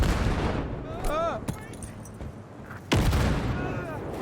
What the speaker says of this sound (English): Oh, grenade works.